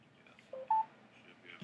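Two brief electronic keypad tones from a telephone being dialed, clear and close, one after the other over a faint hum of room noise.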